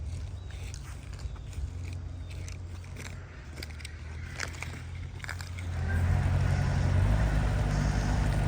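A vehicle rolls slowly over a Gravelfix gravel driveway, crunching and crackling stones under its tires, with a low engine rumble that grows louder and nearer near the end.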